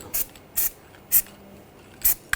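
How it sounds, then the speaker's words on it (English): Short hissing bursts from an aerosol can of anti-seize lubricant sprayed onto a BMW 550i wheel hub, four quick sprays spaced unevenly, close up with quiet between them. "I'm just going to spray some anti-seize on the hub surface"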